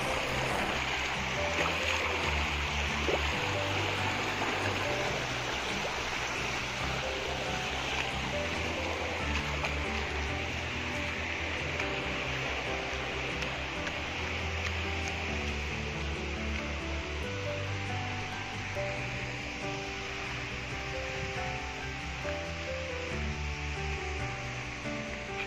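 Rainwater rushes along a mountain road in the Nandhari area, a loud, continuous, turbulent roar of flowing water that holds steady for the whole stretch, with no talk over it.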